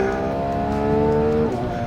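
Ferrari 12Cilindri with a naturally aspirated V12, no turbos or electric motor, pulling hard under acceleration from inside the car, a loud sustained harmonic engine note rising steadily in pitch with a brief shift near the end.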